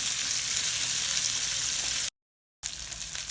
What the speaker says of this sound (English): and also the sliced onions. And again fry them for a few minutes.